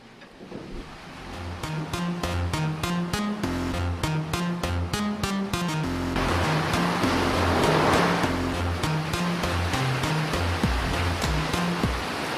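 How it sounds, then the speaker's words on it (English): A watermill's large overshot water wheel turning under a constant rush of falling water, with a loud, steady wash and a repeating rhythmic thump or clank from the wheel and its drive. "The water wheel is the overshoot type."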